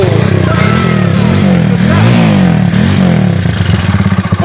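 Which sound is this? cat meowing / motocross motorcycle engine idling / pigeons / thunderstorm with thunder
motocross motorcycle engine idling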